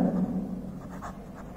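Marker or chalk strokes on a classroom board during a primary maths lesson make a short scratchy scribble, close and fairly quiet, with brief pulsing strokes.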